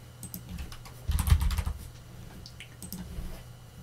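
Typing on a computer keyboard while working in a Linux terminal, a steady run of close, soft key clicks with a denser, louder burst near the middle.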